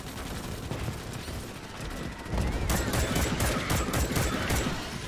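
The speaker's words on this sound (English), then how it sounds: "The grenade launcher is so fun and makes a funny noise." Grenade launcher fire in Starship Troopers: Extermination, a rapid string of punchy detonations and bursts that starts a couple of seconds in and keeps going loud over dense battle noise to the end.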